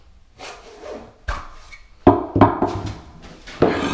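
Kerdi shower drain adapter pulled free from the bottom of a tile shower drain assembly, giving several sharp plastic scraping and rubbing bursts at close range, with a louder snap near the end; no talking.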